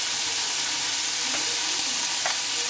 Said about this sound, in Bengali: এটা একটু ভালোভাবে নেড়ে চেড়ে নেব। আর দিয়ে নেবো বেশ কয়েকটা কাঁচা লঙ্কা